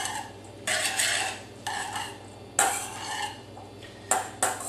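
Stuffed pepper filling with onions being stirred in a bowl, giving several separate bursts of scraping and clinking from a utensil against the dish, close and moderately loud over a low steady hum.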